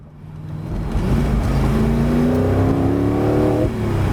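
A 2006 Spyker C8 Spyder engine revs up and pulls hard, its rising note climbing steadily and loudly over about four seconds before easing slightly near the end.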